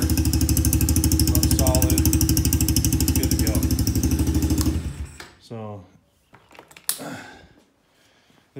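A Coolster 125cc ATV engine idles loudly and close with a fast, even putter, then cuts out abruptly, leaving faint mechanical clicks and rattles.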